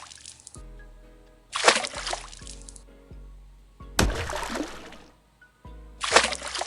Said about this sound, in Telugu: తర్వాత మనకు కావాల్సిన కూరగాయలను శుభ్రంగా కడుక్కొని పక్కన పెట్టుకోవాలి.